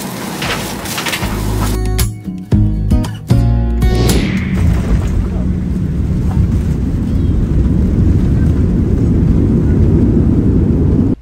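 Steady, loud broadband drone of an airplane cabin on a long overnight flight, preceded by a few seconds of irregular bumps and thuds before the engine roar settles into an even, continuous hum.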